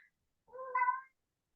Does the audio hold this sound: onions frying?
no